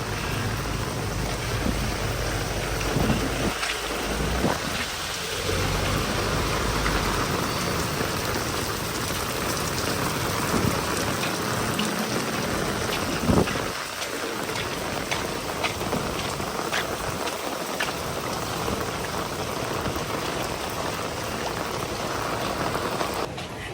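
Heavy typhoon rain pours down steadily over flood water, a dense, unbroken wash of drumming and splashing that stays close and loud throughout, with no voices.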